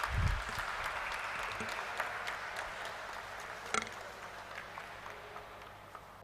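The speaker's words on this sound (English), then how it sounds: "So let us have a round of applause," Thin, scattered clapping from the audience at a corporate stock listing ceremony, light and somewhat distant, with a few sharper individual claps standing out near the end.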